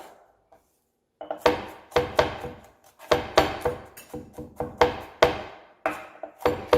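A knife chops garlic finely on a cutting board for chimichurri sauce, giving a quick rhythmic series of crisp, close knocks with short pauses between bursts, alone and fairly loud.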